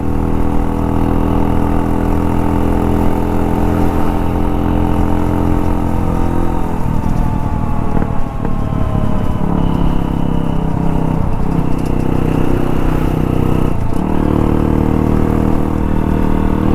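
A fully modified race-spec Hero Impulse motorcycle fitted with a rally kit runs loud and close, with a steady engine drone and a few rises in revs.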